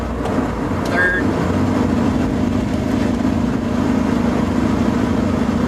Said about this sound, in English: Let's do the downshift. You want to hear the downshift?